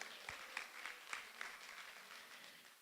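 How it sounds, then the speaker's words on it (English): An audience at a weekend retreat session claps together, a soft, distant wash of applause with a few sharper individual claps standing out near the start, fading slightly toward the end. "Can you give them a round of applause?"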